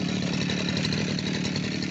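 A petrol brush cutter engine running steadily, a loud continuous buzzing drone held close with no pauses.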